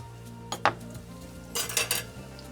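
Utensil scraping and clinking against a pan while roasted country-style potatoes are stirred, two separate bursts of stirring, close and fairly loud over a low steady background hum, with no talking.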